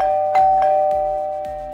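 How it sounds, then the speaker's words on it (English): A doorbell chime rings with a sustained electronic tone, struck several times in quick succession, with faint clicks along the way. "the doorbell started to ring incessantly"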